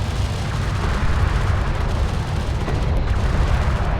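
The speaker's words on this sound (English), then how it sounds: "Enemy railgun firing" Enemy railguns firing in the game Homeworld: Deserts of Kharak, a loud continuous booming roar of heavy fire with deep rumbling weight and no clear gaps between blasts.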